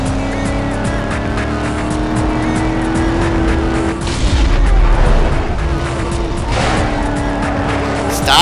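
Continuous roar of a car engine in Need for Speed Most Wanted (2005), with tires squealing and sliding and a few thuds and impacts mixed in, loud and steady throughout.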